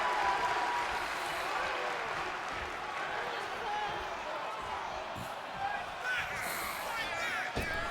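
Wrestling match crowd roaring and cheering in an arena, a dense sustained wash of voices and applause with occasional thuds, while a commentator talks over it.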